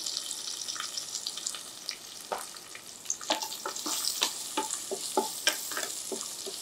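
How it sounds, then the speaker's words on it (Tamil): Garlic sautés in a pan with green chillies for a traditional Kongu rice-and-lentil dish, a soft, steady sizzle broken by frequent light stirring clicks and scrapes, close but fairly faint. "இது லேசாக நல்ல வாசனை வந்து லேசாக நிறம் மாற ஆரம்பிக்கிற வரைக்கும் பூண்டை வதக்குனா போதுமானது"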